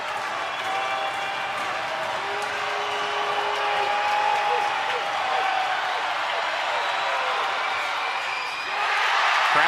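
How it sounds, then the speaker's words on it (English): A basketball arena crowd at a Western Kentucky versus California Baptist game roars and cheers steadily for the whole stretch, a dense wash of many voices and applause that swells again near the end. "Crowd goes nuts."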